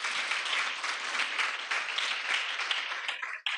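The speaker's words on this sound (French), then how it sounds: "vous devez vous applaudir" A crowd at a Côte d'Ivoire university (UVCI) ceremony claps continuously in a thick, even wash of applause that dips briefly near the end before resuming.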